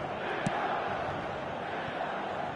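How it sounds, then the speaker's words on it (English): A steady roar of a large stadium crowd in the football video game eFootball 2026 on PS5 fills the background, distant and even, with a faint rising murmur and no clear chanting. "the crowd have tried to spark some excitement, but to no avail."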